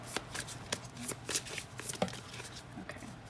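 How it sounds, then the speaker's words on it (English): Close, irregular riffling and slapping of tarot cards being shuffled by hand, a series of quick papery flicks with brief pauses. "So I'm going to start shuffling."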